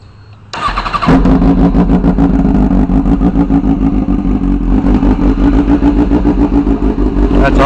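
2006 Kawasaki ZX6R (ZX636) motorcycle with open exhaust starting up, then idling loud and close with a rough, rapidly pulsing throaty burble that rises briefly in revs.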